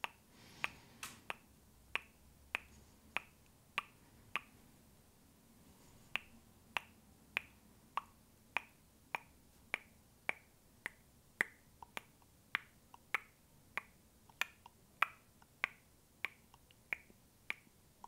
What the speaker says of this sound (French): C'est un bruit de bouche.